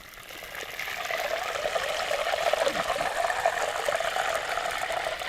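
Pieces of fish frying in a pan over an autumn woodland campfire give off a steady, close hiss and crackle of moisture sizzling out, continuous throughout with no talking.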